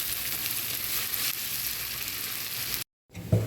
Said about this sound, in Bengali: এখন পেঁয়াজটা বাদাম করে ভেজে নেব